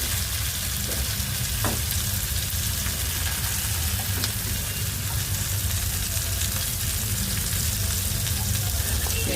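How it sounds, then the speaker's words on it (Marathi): Shrimp coated in semolina and rice flour frying in hot oil, a loud, steady close sizzle with a few faint clinks, with no talk over it. "आता त्या साईडने मी तळून घेते"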